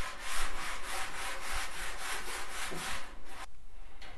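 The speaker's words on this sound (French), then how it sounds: "Un petit coup de ponçage." Sandpaper rubs back and forth over a painted wooden lighting box, steady rhythmic rasping strokes, close and fairly quiet, stopping abruptly near the end.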